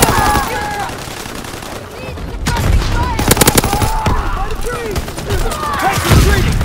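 Dense battlefield gunfire from Call of Duty: WW2, with rapid overlapping rifle and machine gun bursts and occasional booms, continuous and loud, with shouted voices mixed in.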